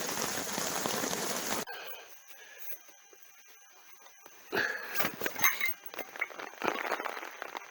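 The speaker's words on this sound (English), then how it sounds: "Well, I said there was rain in the forecast, and here it is." Rain falls on a forest campsite during solo camping: a dense patter at first, then sparse scattered drops and heavier splattering bursts toward the end.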